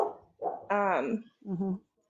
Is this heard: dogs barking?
yes